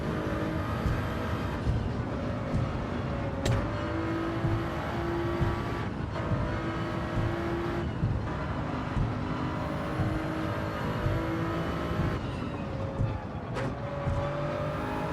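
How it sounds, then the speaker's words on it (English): A race car engine in a racing video game time trial, revving out high and held near full throttle, with brief dips and rises at each gear change across a continuous loud drone. "That Ghost is revved out all the way."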